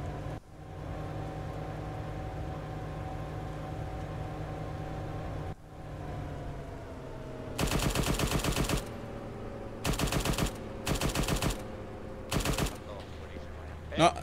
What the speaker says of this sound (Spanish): No, algo dispara por la derecha.